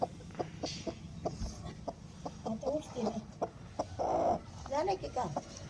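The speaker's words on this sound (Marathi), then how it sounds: "कोंबडी आता बघू कोंबडी कसं करते" A broody hen sitting on a clutch of eggs clucks repeatedly in short, close bursts, with a few louder, drawn-out calls breaking up the steady rhythm.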